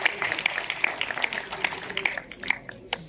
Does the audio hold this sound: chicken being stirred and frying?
no